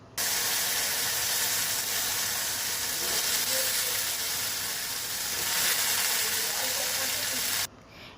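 Cut okra dropped into hot oil with a little turmeric powder gives a steady, loud, broadband sizzle that runs continuously and close, then cuts off abruptly at the end.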